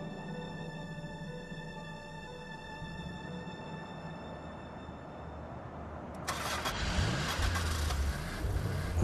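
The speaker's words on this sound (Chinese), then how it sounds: "这片天地足以消解引擎的巨大轰鸣" An off-road vehicle engine in a Ningxia desert wilderness, a faint low hum at first, then louder rumbling and revving after a sudden onset near the end, under a steady electronic tone in the first part.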